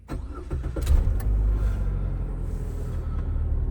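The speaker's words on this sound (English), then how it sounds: "Okay, so the engine starts." A 2011–2016 Chevy Sonic engine cranks briefly, catches and settles into a steady low idle rumble, close and fairly loud.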